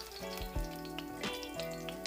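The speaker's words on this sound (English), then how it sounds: "we're just gonna kind of toast the garlic and the flakes here for about 30 seconds" Garlic and red pepper flakes sizzle in hot olive oil for a pasta pomodoro, a steady close frying crackle with occasional stirring clatter, no voices.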